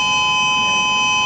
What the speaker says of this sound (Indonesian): Nah, ini bunyi sirene punya BMKG